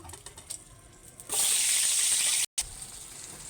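Potatoes drop into a little hot oil, and after a quiet start a sudden loud, bright sizzle bursts up and holds steady, broken once by a brief gap, then carries on more softly.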